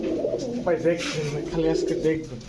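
Army-breed pigeons being shown by a seller coo in low, throaty rolling calls that repeat through the clip, with someone talking over them.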